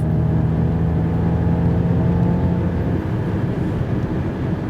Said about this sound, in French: on a un petit son de moteur synthétisé qui nous donne l'impression de se retrouver au volant d'un V8